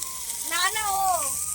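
Vegetables fry in a kadai at an outdoor picnic cookout, a constant bright sizzling hiss close by, with a voice talking over it throughout.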